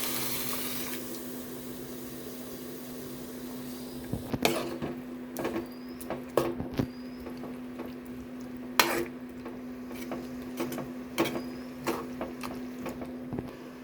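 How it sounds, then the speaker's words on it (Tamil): Cooked lentils go into a pan of wilted red ponnangani spinach, giving a few soft wet plops and light clinks and scrapes over a steady low hum, close and fairly quiet. "இப்போ பருப்பு ஆட் பண்ணிக்கலாம்."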